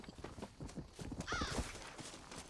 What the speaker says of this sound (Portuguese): Olha o meu cavalo aí, ó.